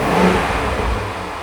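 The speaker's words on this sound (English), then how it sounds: "Give it a rev." A car engine revs up loudly nearby, its roar swelling briefly and then easing back down.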